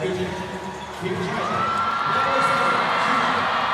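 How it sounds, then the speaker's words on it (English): A basketball arena crowd roars and cheers as Yang Li Wei checks in for her first minutes during a FIBA Women's Asia Cup 2025 game between China and Indonesia. The broad, sustained crowd noise swells louder, with whoops and a faint voice over it. "the crowd gives a big welcome to Yang Li Wei entering the floor for her first minutes"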